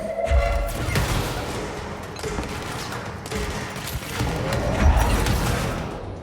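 Explosive thuds and bursts from grenades fired and detonating in the game Control, a dense, loud barrage with repeated heavy booms over several seconds.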